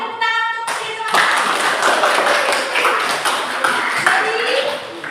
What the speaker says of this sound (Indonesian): tepuk tangan untuk siswa